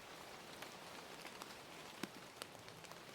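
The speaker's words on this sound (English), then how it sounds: "a drip from a gutter finds a steady rhythm" Rain dripping from a house gutter: a quiet, continuous patter of rainfall with occasional individual drips landing in a loose, irregular rhythm, faint and alone.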